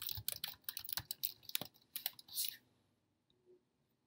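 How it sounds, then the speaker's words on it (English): Code being typed on a computer keyboard: a quick, close run of key clicks for about two and a half seconds, then near silence broken by one last faint click. "I'll type in the code and click the run button."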